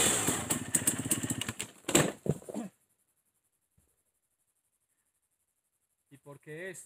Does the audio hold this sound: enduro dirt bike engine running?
yes